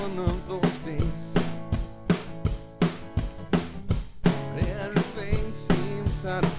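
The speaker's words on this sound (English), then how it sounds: "Just the drums by themselves there." A multitrack studio drum kit recording heard on its own, with a steady groove of punchy kick and snare hits and cymbal wash repeating at a brisk, even tempo, close and loud.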